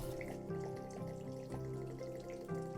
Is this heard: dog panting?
no